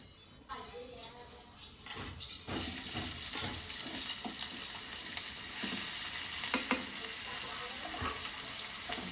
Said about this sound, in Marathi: तेल गरम झाला की कांदा टाकू.